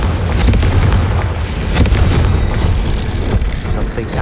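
A Confringo spell explosion in the Hogwarts Legacy video game bursts loudly with dense, booming blasts and crackling impacts filling the whole stretch.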